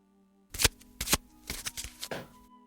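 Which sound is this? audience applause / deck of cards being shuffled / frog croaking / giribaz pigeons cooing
deck of cards being shuffled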